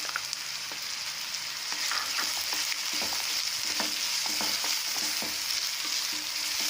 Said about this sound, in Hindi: गाजर है, आधी गाजर भी डाल देते हैं।